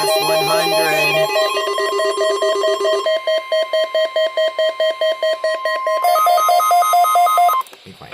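NOAA Weather Radio alert tones from the San Diego National Weather Service required weekly test: a loud, steady electronic tone, then a rapid series of pulsing beeps, and a final higher tone ending abruptly.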